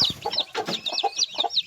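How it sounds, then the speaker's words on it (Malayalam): A hen with two chicks hatched the day before, giving close, repeated soft clucks and high peeping calls in a quick, uneven rhythm. "ഇന്നലെ വിരിഞ്ഞ 2 കുഞ്ഞുങ്ങൾ ഈ കോഴിക്കും ഉണ്ട്."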